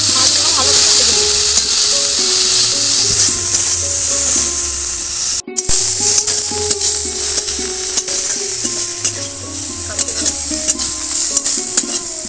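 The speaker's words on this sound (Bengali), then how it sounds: "লবণ, হলুদ গুঁড়ো, মাছগুলো ভালো করে ভেজে নেব।" Prawns fry in hot oil with turmeric and salt, a steady loud sizzle running throughout with scattered stirring clinks and a brief cut midway.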